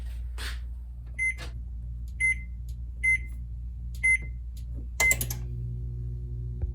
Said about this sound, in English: I'm gonna put her in the oven and I'm gonna turn it on